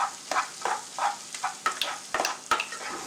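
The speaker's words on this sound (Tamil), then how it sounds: "பெப்பர் பவுடர் ஆட் பண்ணிவிட்டு ஜஸ்ட் ஒரு ஃபியூ செகண்ட்ஸ் மிக்ஸ் பண்ணால் போதும்" Mushroom masala with pepper powder is stirred in a frying pan, a rhythmic series of close scraping strokes over a soft sizzle, about eight stirs in quick succession.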